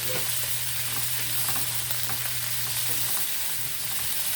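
Squid and fish pieces fry in a pan with bell pepper and tomato, giving a steady, close sizzle with faint stirring scrapes and a low hum that stops partway through.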